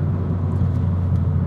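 A 300bhp big-turbo Abarth 500 drives along a road, heard as a steady low engine drone and road rumble from inside, with no talk.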